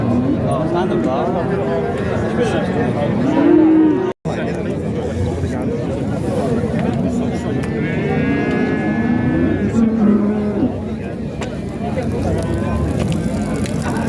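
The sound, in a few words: cattle mooing at livestock market, female calves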